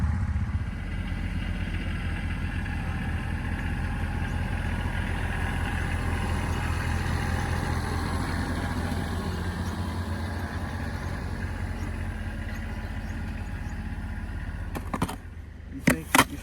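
A tractor engine loaded with maple taps, buckets and sugaring equipment drones steadily while heading back to the woods, a low continuous rumble with some clatter and a few sharp knocks near the end.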